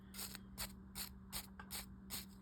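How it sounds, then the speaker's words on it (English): A small brush scrubs the WD-40-sprayed pinion gear teeth of a J A Coxe Model 25-3 fishing reel, making six evenly spaced, crisp bristly strokes close up in a quiet room. "and go through and scrub all those little teeth"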